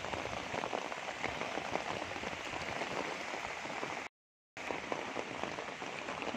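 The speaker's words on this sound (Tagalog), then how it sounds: "Sana po hinto yung ulan." Heavy rain during Typhoon Ulysses in Baras, Rizal, a loud, dense, constant downpour hissing on surfaces, briefly cut by a moment of silence before resuming; no talking.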